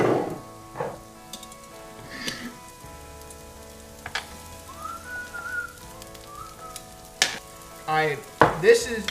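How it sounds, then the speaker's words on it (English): Onions frying in a pan for a palomilla steak give a fairly quiet, steady sizzle with a few scraping tong movements and clinks, growing busier toward the end. "Now throw the onions on there."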